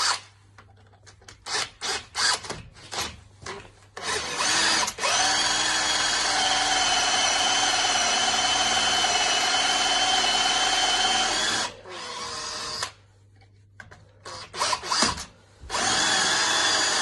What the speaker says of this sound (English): 1/4 inch drill.